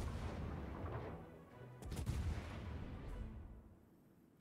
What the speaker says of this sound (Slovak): Toto boli také hodne splášené výstrely.